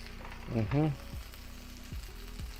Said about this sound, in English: And then we're going to heat them up, let them cook a little bit. Let's flip them.